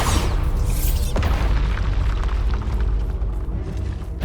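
Confringo and Bombarda spells from Hogwarts Legacy detonate in a quick run of deep, heavy booms and bursts, loud and close, with rumbling debris between the blasts.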